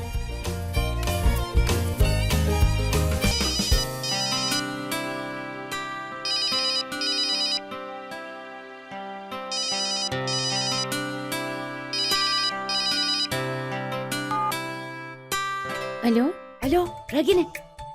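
A phone ringtone plays during an outgoing call in a Turkish-dubbed drama scene, a bright repeating electronic melody that sounds clearly in the foreground after a loud musical opening, with a few clattering notes at the end.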